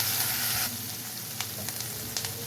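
Onions sautéing in a pan for a village-style home-cooked curry sizzle in a steady, fairly loud hiss, with a few sharp clicks of stirring near the end and no talking.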